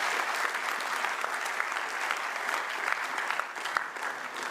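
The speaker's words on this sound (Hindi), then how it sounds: "एक बार करतल ध्वनि से ताली बजाकर उनका अभिनंदन करें" An audience at a drug-free awareness session at the Delhi Police Academy in Jharoda Kalan gives thick, sustained applause after a play, a dense and even wash of many hands clapping throughout.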